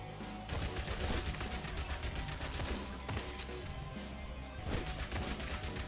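Rapid bursts of gunfire and crashing impacts from the zombie survival game Yet Another Zombie Survivors, loud and dense, running almost without a break across the whole stretch.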